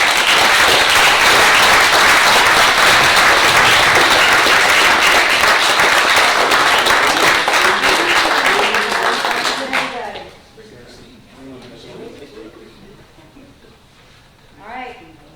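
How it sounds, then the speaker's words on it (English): A city council meeting audience gives a loud, dense round of applause for a water resource management team, lasting about ten seconds before dropping away to softer room noise and a brief voice near the end. "join me in a round of applause for our team"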